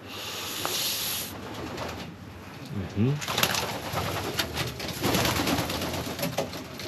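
Racing pigeons coo in a loft, soft throaty calls amid rustling and shuffling, with people talking intermittently nearby.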